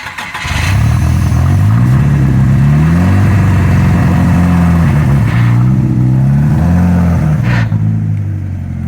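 A Chevrolet S10 pickup with a big-turbo 3.0L Mercruiser boat engine swapped in drones loudly and steadily from inside the cab, its pitch rising and falling as it drives, with tire and clutch noise mixed in.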